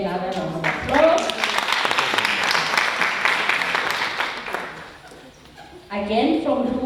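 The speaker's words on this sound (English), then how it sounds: "Give her another round of applause." An audience at a teachers' awards ceremony claps for a winning high school teacher, a loud sustained burst of many hands that tapers off, framed by a speaker's amplified voice at the start and end.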